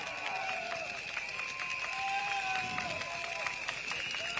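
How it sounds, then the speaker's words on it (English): Audience applause and cheering at a PAP political election rally for Sembawang GRC, a steady wash of crowd noise with whistles held at an even level throughout. "Please give a round of applause, Mr. Gabriel Lam."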